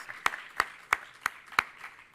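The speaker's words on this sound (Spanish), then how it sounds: "dedicaros un aplauso a corresponsables de parte de todos" Five slow, evenly spaced claps ring out sharply against a quiet background, sounding like a single person or a small, sparse audience applauding.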